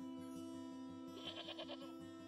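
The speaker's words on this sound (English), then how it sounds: "Oh, look at the goat!" A goat bleats in the video game Wytchwood, one wavering cry over a steady, droning game soundtrack.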